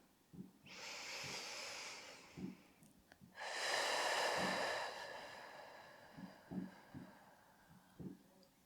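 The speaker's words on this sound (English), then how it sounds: "as you start to connect with the sound of your breath, you might start to deepen and lengthen those breaths in and out" Deep, slow yoga breathing close to the mic: a long airy inhale, a short pause, then a long hissing exhale, with soft low thumps scattered through and quieter breaths around them.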